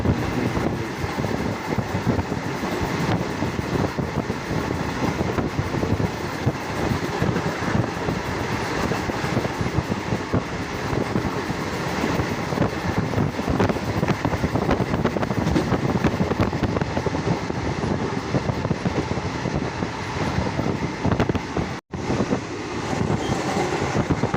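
The Howrah–Chennai train rolls past near an overbridge with a loud, continuous rumble, wheel clatter and wind buffeting the microphone, steady throughout.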